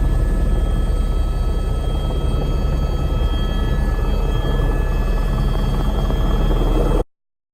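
A tour helicopter near Juneau, Alaska, descending to land by the Herbert Glacier, its rotor and turbine roaring loud and steady at close range throughout, with no speech.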